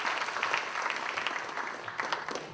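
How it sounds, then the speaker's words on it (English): Applause from the audience at a York College CUNY spring convocation ceremony, a steady, dense wash of many hands clapping throughout, fairly even in level with no pauses. "Let's give them a round of applause."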